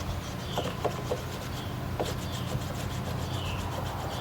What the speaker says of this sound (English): you're going to want to take and rub the top of your tread